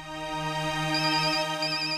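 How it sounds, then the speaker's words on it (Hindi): A telephone ringtone plays loud and close, a steady electronic melody of sustained tones with no voice over it. "ऑफिस से फोन है, मुझे जाना होगा।"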